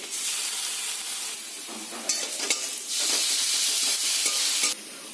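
Sliced onions and garlic fry in oil in a pan with a bright, steady sizzle. Occasional stirring scrapes break in, and a surge of louder hissing follows partway through. No speech.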